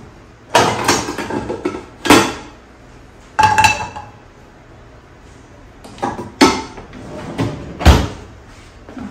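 A frying pan is pulled out in a kitchen, with several sharp clanks and clatters of pans and a cupboard door spaced over several seconds, close and loud against quiet.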